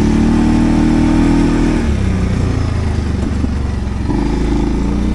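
Segway Snarler AT6L ATV with Stage 2 variator tuning revving its engine up close, a loud steady roar that drops in pitch partway through and then climbs again.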